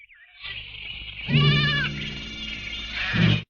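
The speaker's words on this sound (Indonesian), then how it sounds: "memberikan seekor anak domba yang masih berumur 1 minggu ke pelukan Suster Maria" A one-week-old lamb bleats close by, a long wavering cry that rises into a louder quavering middle and ends with a short second bleat.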